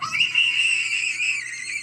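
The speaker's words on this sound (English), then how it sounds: "the little girl leading the screams for ice cream" A little girl lets out a long, high, piercing scream for the ice cream truck, loud and sustained for nearly two seconds with slight wavering.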